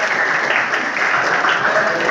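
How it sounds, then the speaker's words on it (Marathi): Students at a Shivjayanti celebration give a loud, dense round of applause, steady and close throughout with a hint of voices mixed in. "जोरदार टाळ्या विद्यार्थी स्वागत करा"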